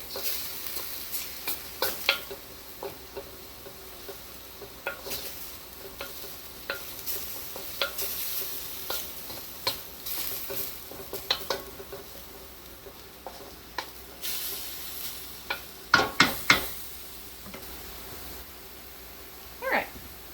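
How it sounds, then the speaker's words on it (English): Thai-style beef curry ingredients stirred and sizzling in a pan, a steady low fry broken by frequent sharp clicks and scrapes of the utensil against the pan, nearby and fairly quiet, with no talking. "we're just going to stir that around. It's not going to take very long. That's just going to get fragrant."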